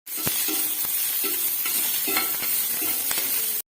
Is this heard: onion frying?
yes